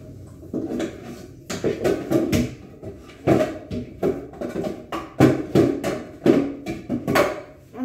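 Loud banging while someone fixes a drawer: irregular sharp knocks and thuds of wood against wood, some in quick clusters, others spaced apart, close and alone without talk.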